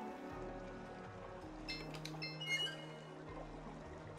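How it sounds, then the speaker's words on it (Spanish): Water running through sewers in the video game Cris Tales as the flow is turned down: a soft, rain-like pouring wash with a few faint chiming tones partway through, quiet and without speech. "Aquí vamos a bajar ahora el volumen de agua."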